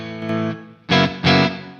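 Enya Inspire carbon fiber smart guitar played through its dirty amp with reverb switched on, a sustained chord followed by two loud strummed chords ringing out with a lingering tail, no voices.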